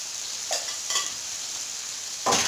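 Tomato with a quarter spoon of turmeric fries in a pan for a brinjal dish, a steady sizzle with three short bursts of stirring scrapes, the last one louder.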